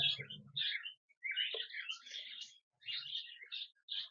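A pair of cockatiels chirp and twitter in short, bright bursts with brief pauses between, fairly close and quiet, with faint low handling noise at the start.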